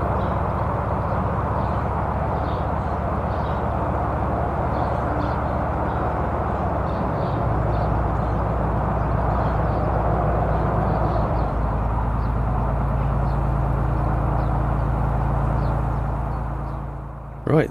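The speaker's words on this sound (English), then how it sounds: "That horrendous noise you can hear is the M69 motorway." Heavy traffic roar from the M69 motorway heard beside the North Oxford Canal near Ansty, a continuous loud rumble and wash of tyre noise that swells midway and fades slightly at the end.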